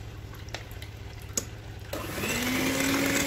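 Electric hand mixer beating waffle batter as flour goes in, a steady whirring drone with a few brief clicks, then growing louder and busier with a rising whine near the end, close by with no talk.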